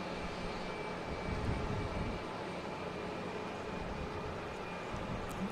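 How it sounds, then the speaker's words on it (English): A JetBlue jet airliner takes off at Boston Logan Airport, its engines giving a steady, broad roar that holds level and fairly distant throughout, with no voices. "We got JetBlue taking off now."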